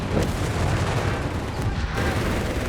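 Dense battle noise in Company of Heroes 3 as US Rangers face a machine gun position and a Mark II frag grenade goes off at close quarters, thick overlapping bursts and booms, loud and continuous without a single clear blast.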